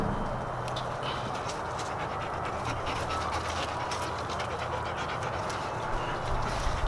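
Several dogs pant continuously nearby, a rapid, steady breathy rhythm lasting several seconds, close and clear, with faint background noise and no talking.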